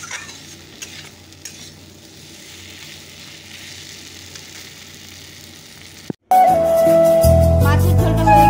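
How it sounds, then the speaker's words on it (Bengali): Spice paste frying in a pan, a steady close sizzle with stirring scrapes for about six seconds, then a brief cut and a different, louder stretch with tonal sounds. "মশলাটা দিয়ে দিয়েছি, তো চলো মশলাটাকে একটু ভেজে নেই।"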